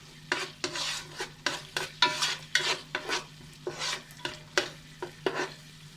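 Onions sautéing in oil with low hum and sizzle beneath a quick run of rhythmic scraping stirs, about two strokes per second, close and distinct.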